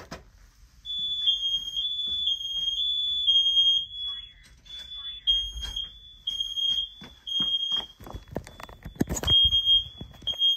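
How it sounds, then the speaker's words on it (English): Several smoke alarms accidentally set off together, sounding a steady high-pitched electronic tone that runs continuously over clatter, thumps and brief movement noise, fairly close and loud. "Okay, so I accidentally set off these smoke alarms."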